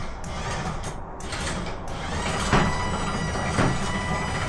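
An electric winch mounted on a camper hauls a Jackery portable power station upward, a loud, steady mechanical grinding whine with a couple of brief clunks partway through, close by.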